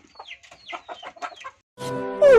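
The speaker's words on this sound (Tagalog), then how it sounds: "Kalodi, ito na yung mga manok ko." Farm chickens and a rooster cluck in a quick run of sharp calls, then a louder burst of crowing-like squawks rises close by at the end.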